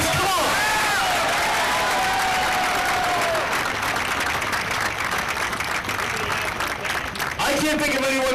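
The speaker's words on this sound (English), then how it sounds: "Come on, you can clap loud enough." Crowd at an outdoor Tea Party rally on Boston Common applauds the keynote speaker, a loud, sustained roar of clapping mixed with cheers and scattered shouts and whistles.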